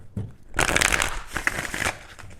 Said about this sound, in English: Alright, shuffling.